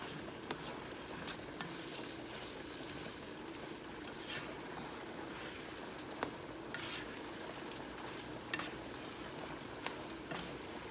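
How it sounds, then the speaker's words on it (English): Ground meat mixed with black pepper and other seasonings simmers steadily in a pan for baked ziti, giving a soft continuous bubbling crackle with occasional small pops, close and fairly quiet. "Now you just want to allow this to simmer for about 5 minutes."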